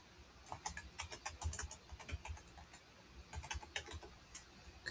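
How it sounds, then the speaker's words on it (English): Quick bursts of typing on a computer keyboard as a library card number is entered, with clustered key clicks separated by short pauses, close and fairly quiet with no talk. "I am going to type in the library that I use to access my free courses."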